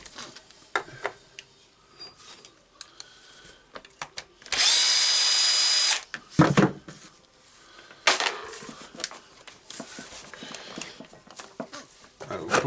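A Makita HR2811 rotary hammer is taken apart, a power screwdriver whirring in one loud, steady burst of about a second and a half, surrounded by sharp clicks and clatters of handling the tool.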